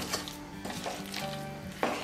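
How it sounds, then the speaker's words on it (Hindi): Gond pak mixture is stirred in a pan after a spoonful of desi ghee goes in, a soft scraping and light sizzle with a few utensil clinks, the last one sharper near the end. "तो बस इसके अंदर मैंने 1 चम्मच घी डाल दिया और इसको मिक्स कर"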